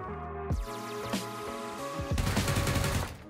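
Enemy gunfire in the game PUBG, rapid rattling bursts of automatic shots in several strings, moderately loud and without speech.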